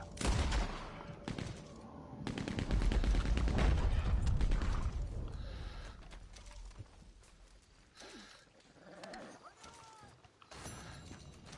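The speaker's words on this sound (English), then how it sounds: "Oh, that's you on the Gatling gun" Rapid Gatling gun fire in Red Dead Redemption 2, a dense, sustained mechanical rattle of gunfire that is loudest early, then thins into scattered bursts, clanks and creaks among other game noise.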